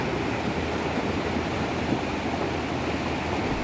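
A very swift, flood-swollen river rushes at a washed-out bridge on the Medan–Kutacane road in Southeast Aceh, a steady, loud roar of churning water with wind buffeting the microphone and no talk.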